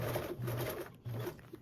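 Sewing machine stitching the binding on a convertible duffle bag, close rapid mechanical whirring in two short bursts separated by a brief pause.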